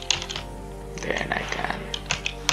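Quick bursts of clicking on a computer keyboard, close and crisp, with short pauses between runs of keystrokes and a faint background hum.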